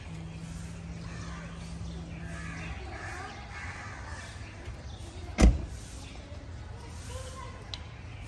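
The sunroof of a 2014 Mercedes-Benz E250 twin turbo opening: a faint, steady electric motor whir for a few seconds under background noise, then a single sharp click, with a voice heard at times.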